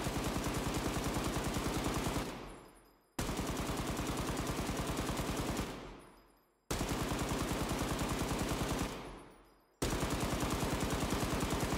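Automatic gunfire in the video game Incursion Red River: three long, loud sustained bursts of rapid shots, each cutting off with a fading tail before the next begins.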